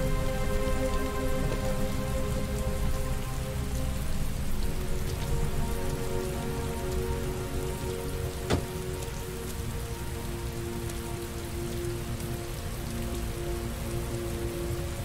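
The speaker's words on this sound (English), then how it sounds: "Heavy rain. It's been the same for weeks." Steady, heavy rain in the video game Heavy Rain pours down without a break, a dense wash of drops with one brief sharp tap partway through.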